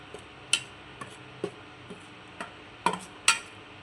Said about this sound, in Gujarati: તો પહેલાં આ રીતના સરસ મજાનો લોટને ઘીમાં મિક્સ કરી લઈએ